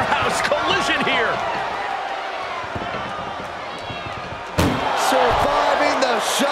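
During a WWE 2K24 ambulance match, the ambulance door slams shut with one sharp, loud impact about two-thirds of the way through, over a constant roar of arena crowd noise and commentary.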